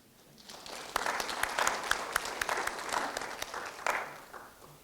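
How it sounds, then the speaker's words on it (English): An audience applauds Gen Z at a Kenyan political gathering, a burst of scattered clapping that builds quickly, holds steady and fades out over a few seconds. "We need to clap for Gen Z."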